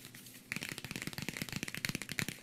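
Crinkly paper safety-warnings leaflet from an iPhone box being handled and folded close up, giving a steady run of crisp rustles and snaps with no talking.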